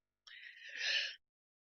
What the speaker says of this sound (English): Feel like I keep having to sneeze, but it's not coming out.